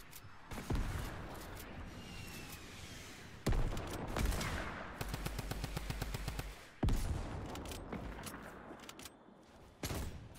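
Fortnite gunfire crackles in repeated bursts, including rapid machine-gun rattles and single loud shots, with brief lulls between the volleys.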